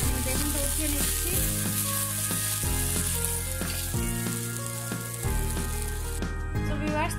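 Onions go into hot oil in a pan just used to fry eggplant for a Bengali fish dish, sizzling steadily and close up with stirring and background music underneath.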